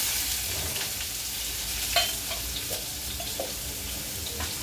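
Finely chopped onion frying in hot oil in a kadai, a steady close sizzle with occasional clinks and scrapes from stirring, and no voices.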